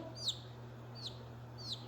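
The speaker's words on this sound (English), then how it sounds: "You can hear them chirping at each other." Young fluffy chicks chirping back and forth, three short, high, thin peeps spaced evenly over a faint steady hum, quiet and fairly close.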